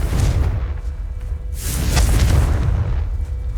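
A Confringo blasting spell strikes dry vines in the Hogwarts Legacy video game, making a loud, low boom that swells with a whooshing burst midway and rumbles on steadily, with no talking.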